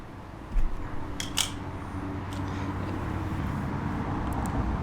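A succulent stem is cut, probably with scissors or a small blade: two or three brief, crisp snips close to the microphone, each clearly audible over a steady low room hum, with no voices.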